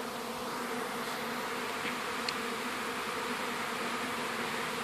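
Honey bees hum in a dense, continuous drone around a beehive with a telescoping cover, close and steady throughout with no voices.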